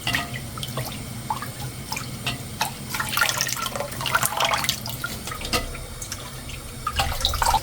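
Cooked rice grains rinsed in water for Korean sikhye make continuous close splashing and trickling, like water running in a sink, with small drips and sloshes rising and falling; no voices.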